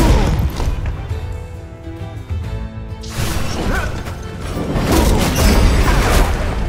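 Gunfire in the video game Ruined King lands as sharp, booming crashes among layered game effects and a sustained musical tone, loud and close.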